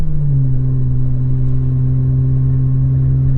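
Steady low engine drone with a deep exhaust note from a 2015 BMW 535xi with some exhaust work, constant and fairly loud, as from inside the moving car; no voices.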